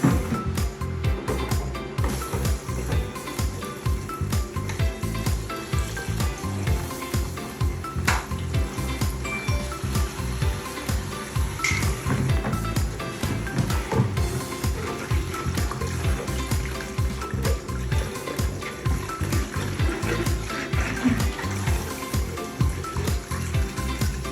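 Water runs steadily while a baby feeding bottle and its parts are rinsed. The splashing is continuous, with small knocks and clatters of plastic throughout.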